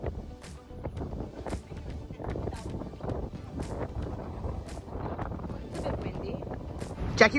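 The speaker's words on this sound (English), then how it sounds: "Windy." Wind gusts on a New York City street batter the microphone with a steady low rumble, while rhythmic thuds, like footsteps, and city noise continue underneath.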